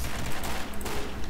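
Gunfire in the shooter game Combat Arms, a dense, loud wash of rapid shots with noisy crackle throughout a short moment.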